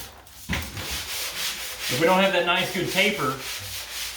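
Drywall joint compound is sanded flat and tapered back into the drywall, giving a close, loud, continuous rasping scrub in long strokes with no talk.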